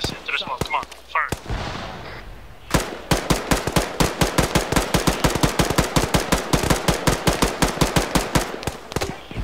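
Rapid, sharp gunfire from soldiers in ArmA 3 mountain combat, a sustained burst of evenly spaced loud shots after a few scattered earlier ones, with shouted voices at the start.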